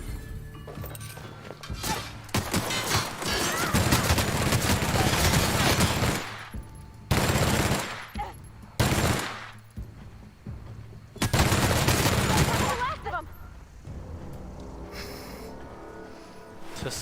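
Overpowered gun firing in The Outer Worlds, several long loud bursts of rapid automatic fire separated by short pauses, each burst close and harsh with crackling impacts between.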